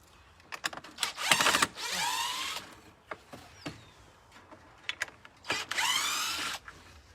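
Cordless power drill or driver unscrewing a screen from a warped wooden frame on a garden hoop house, two loud whirring bursts with rising pitch separated by clicks and handling knocks.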